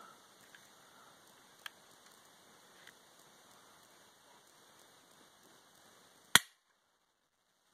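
A Glock 43 pistol, with an empty magazine and no round chambered, dry-fires against a trigger gauge: one sharp, close snap near the end over faint background hiss, with a couple of tiny ticks earlier.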